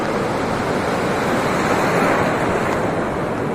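Big ocean waves break on a Goa beach in a steady, loud roar of surf that runs unbroken from start to finish, with no voices.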